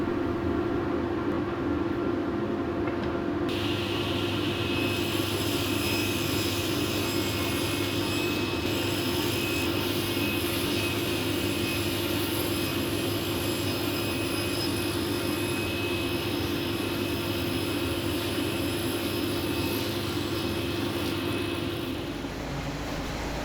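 A power saw cuts the sides of a contemporary ladder-style wooden bookshelf to final length, its motor running loud and steady from a few seconds in until just before the end, with no talking.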